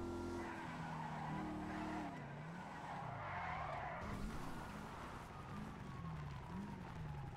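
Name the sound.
car driving in circles in the video game GTA 5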